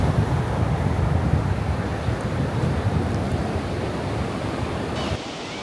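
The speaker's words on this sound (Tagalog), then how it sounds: "Tignan nyo, ang lakas ng alon." Strong ocean waves wash onto a beach in a loud, continuous surf roar mixed with wind buffeting the microphone, cutting off abruptly near the end.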